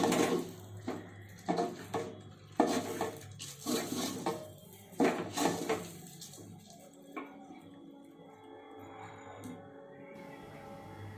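Rice frying in a pot over a medium flame for paneer pulao is stirred with a spoon, giving a series of scraping, clattering strokes against the pot before a quieter sizzle trails off.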